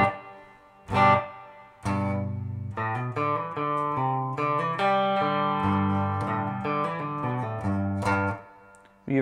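Electric guitar played through a Carvin V3M amp with reverb, chords and single notes ringing out and trailing off into a short wash of echo.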